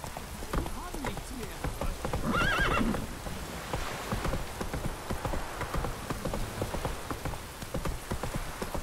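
In The Witcher 3: Wild Hunt, a horse whinnies loudly while hooves clip-clop steadily over a rainy backdrop, with people talking over the game sounds.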